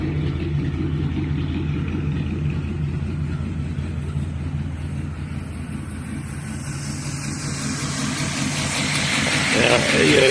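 A 1951 Mercury sedan's flathead V8 with twin pipes rumbles at a low, steady idle that swells louder toward the end, with voices talking over it.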